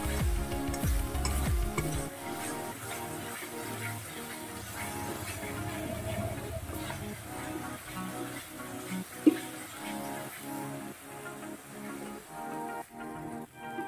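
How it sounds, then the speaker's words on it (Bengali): Spice paste for lote fish bharta sautéing in a pan, with repeated rhythmic scraping stirs over a soft sizzle and a wet, bubbling texture, close and moderately loud, no voices. "এবার সুন্দর করে আমি আরও কিছুক্ষণ কষিয়ে নেব, যতক্ষণ কাঁচা গন্ধটা না যাবে আমি কষিয়ে নেব"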